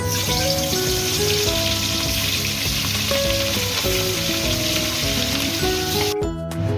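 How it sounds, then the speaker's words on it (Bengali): Hilsa fish sizzles loudly and steadily in hot mustard oil in a kadai, a dense crackling that cuts off briefly near the end. "কড়াইতে তেলটা গরম হয়ে গেছে আমি ইলিশ মাছগুলো ভেজে নেব"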